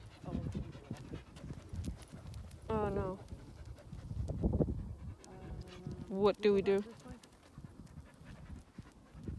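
Dogs pant and move about on an outdoor nature walk in a park, the breathing rough and close amid shuffling, with people talking over it.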